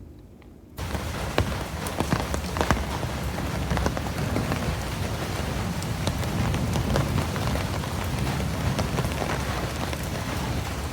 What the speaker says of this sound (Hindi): बारिश हो रही थी बहुत तेज़।